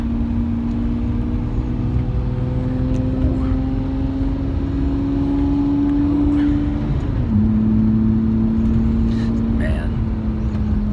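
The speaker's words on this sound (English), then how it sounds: "Gotta make way for a Lamborghini when it's coming through." A Lamborghini Murcielago engine drones steadily from inside the car during a ride in Las Vegas, holding a loud even tone that drops in pitch partway through as it shifts, with continuous road noise.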